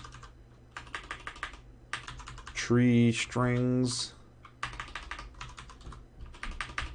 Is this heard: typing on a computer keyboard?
yes